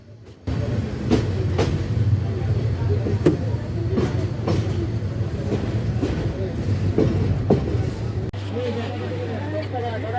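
The Mohanagar Godhuli Express passenger train arrives at Feni railway junction, rumbling steadily with rhythmic clacking, a constant low hum underneath and faint chatter of people nearby.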